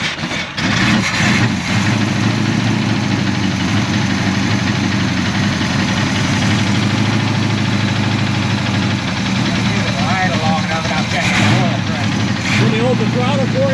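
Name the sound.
1984 Chevrolet Monte Carlo race car engine running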